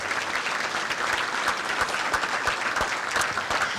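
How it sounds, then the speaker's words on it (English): A large audience at a regional chamber of commerce business awards event applauds the sponsors, with dense, steady clapping that holds at a loud level for the full span and no voices coming through. "Can we please have a round of applause for all of the sponsors this morning?"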